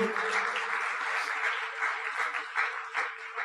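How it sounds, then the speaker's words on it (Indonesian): An indoor audience gives sustained applause for the company Tiansi, with dense, even clapping throughout and no voices. "Jadi sekali lagi kita aplaus untuk perusahaan Tiansi Bapak Ibu."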